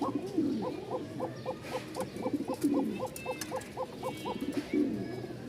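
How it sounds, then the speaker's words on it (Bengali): Several Kokka pigeons coo in a steady, repeating rhythm, with overlapping low throaty calls from a loft of fancy pigeons; moderately loud and close, no talking. "ককা কবুতর সবগুলোর ডাক আছে"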